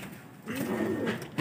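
Pigeons, one white and one blue bar, give a soft, brief coo, faint and close.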